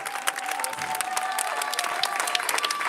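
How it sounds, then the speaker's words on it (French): Lively audience applause at a French-speaking gathering, a dense patter of many hands with some sharper individual claps, fairly close, while a tonal hum and a faint voice sit underneath. "On applaudit très fort."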